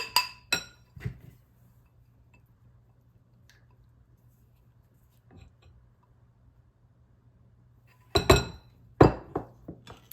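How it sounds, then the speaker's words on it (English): Banana bread batter with chopped walnuts is mixed in a glass bowl, with a few bright clinks and scrapes at the start, a long quiet stretch with soft squishes, then another cluster of glassy knocks near the end. "now we're going to mix everything together here"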